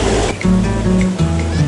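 Cold water from Tamaraw Falls in Puerto Galera rushes in a strong, steady current, with a tonal musical bed laid over the constant roar.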